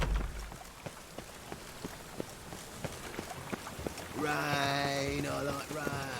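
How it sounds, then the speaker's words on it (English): Rain falls in The Witcher 3, steady patter with scattered sharper drops on surfaces and footstep-like taps, moderately close, before a melodic tone sweeps in toward the end. "Rain, I like rain."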